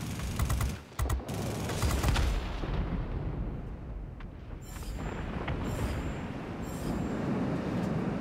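Guns of an F-94D Starfire jet fire in World of Warplanes, a dense rapid burst of loud gunfire over a steady roaring engine drone, then the engine continues with fainter distant shots.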